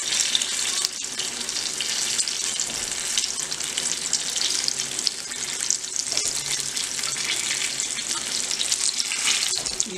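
Onion pakoras deep-frying in hot oil, a loud, constant, bubbling hiss close by that runs without a break, with a couple of faint clicks as they are turned.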